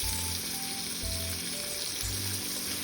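Pork belly frying in a pan as its fat renders, giving a steady, close sizzle with a constant crackling hiss throughout. A few low thuds sit underneath it.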